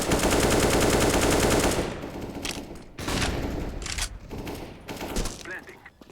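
Video game gunfire: a sustained loud automatic burst for about two seconds, then several shorter volleys of shots, with talk faintly underneath.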